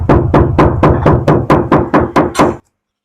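Ten quick, evenly spaced hollow knocks on a thin metal car roof panel, close up and loud, then silence.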